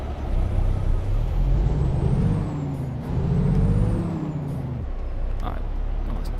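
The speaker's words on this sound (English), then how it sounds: "And of course, kill the truck there." Truck shut down in American Truck Simulator: loud, close hiss of air brakes over a deep engine rumble that cuts out near the end, with someone talking.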